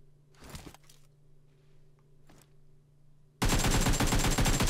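UMP submachine gun from the older first-anniversary set, fired in a video game: faint scattered shots, then a sudden loud, dense burst of rapid fire near the end.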